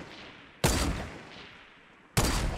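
Two sharp bursts of gunfire in the Fortnite battle royale game, sudden and loud, separated by a quiet gap with a faint decaying tail after each.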